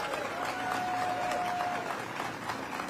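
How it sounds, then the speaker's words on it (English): Applause rises from the audience at the Jackie Robinson Museum ribbon-cutting and grand opening in New York, a moderate, steady patter of clapping mixed with crowd murmur. "let's give a great round of applause for Mrs. Robin Roberts."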